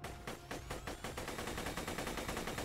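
A Gatling gun in the video game Borderlands 2 fires a rapid, unbroken stream of close, loud shots with an even mechanical rhythm that holds steady for the whole stretch.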